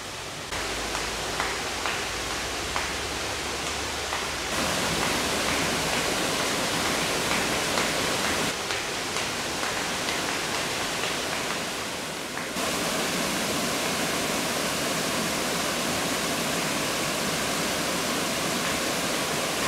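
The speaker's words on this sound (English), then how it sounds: "This is the largest cascading waterfall in Maryland, with a 78-foot or 24-meter drop." Continuous roar of Cunningham Falls, a 78-foot cascading waterfall in Maryland, loud and broadband, steady throughout with slight shifts in tone as the perspective changes, no voices.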